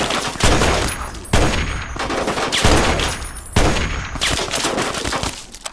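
Turrets in a heavily modded video game fire rapid bursts of loud gunfire, several sustained volleys each lasting about a second or more, close and harsh with no talking.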